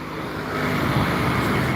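A Sumbar bus with an SR2 body passes with a broad, steady engine and road rumble that swells slightly as it draws near.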